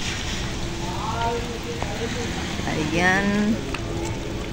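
Rain falls on a roof at a pares eatery whose roof is under construction, making a steady, dense patter and hiss that continues under people chatting nearby.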